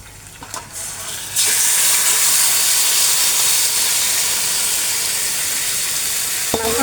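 Marinated mutton tipped into a hot kadai of fried onions sets off a sudden loud, steady sizzle and hiss that holds for several seconds after a brief quieter lead-in.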